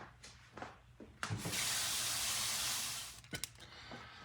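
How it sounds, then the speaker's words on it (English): A kitchen tap runs steadily for about two seconds while hands are washed, a broad rushing hiss with short splashes and handling clicks before and after. "Let me wash my hands."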